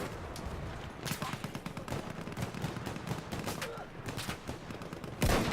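Rapid gunfire in the Battlefield 1 first-person shooter beta: dense, continuous bursts of shots at moderate level, ending with one sharper, louder blast.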